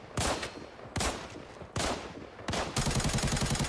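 Gunfire rings out in the shooter game Area Breakout: loud, close bursts of automatic fire separated by short pauses, ending in a sustained rapid rattle.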